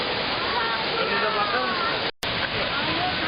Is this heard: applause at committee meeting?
no